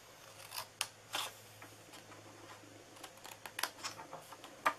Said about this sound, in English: we are going to first cut this little rectangle here out